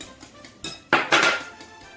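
A utensil clatters and scrapes against a bowl as batter is mixed for a chocolate Christmas-tree cake, a few sharp clinks and a louder scraping burst, close and indoors.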